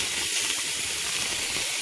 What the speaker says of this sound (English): frying the meat in a little bit of olive oil